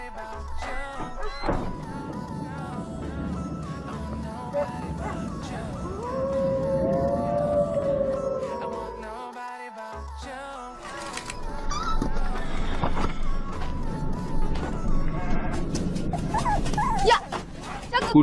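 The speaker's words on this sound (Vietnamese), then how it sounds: "Chó ở đâu ra đấy?" A dog whines and howls in a drawn-out, wavering cry, mixed with whimpers and people talking, in a 2020 action drama film about a vengeful wolf pack.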